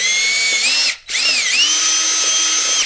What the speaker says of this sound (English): we're gonna drill this guy out